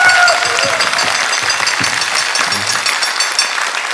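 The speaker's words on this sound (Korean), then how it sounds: "박수 한번 주세요" At a live public broadcast talk event, an audience breaks into applause, a dense wash of clapping that fills the room and tapers slightly toward the end.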